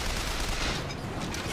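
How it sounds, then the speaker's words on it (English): Rapid gunfire from Bioshock Infinite combat, a dense, continuous fusillade of game gunshots that stays loud and steady throughout, with no clear talk over it. "All I hear is gunshots."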